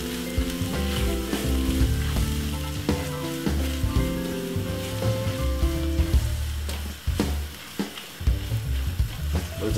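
Corned beef for pasta sizzles loudly in a hot pan as it is stirred, with a continuous crackle broken by spoon scrapes and clanks against the pan, close up and with no talking.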